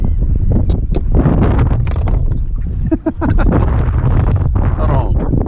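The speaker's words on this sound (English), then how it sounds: "the wind's picking up" Strong wind roars continuously across an outdoor microphone on the water while fishing, a loud, buffeting rumble that never lets up, with indistinct voices faintly underneath.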